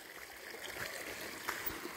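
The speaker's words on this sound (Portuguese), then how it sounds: "O riacho aqui começando a correr água" A small rain-fed stream in rural Pernambuco runs with a faint, steady watery rush and trickle, continuous and without talk.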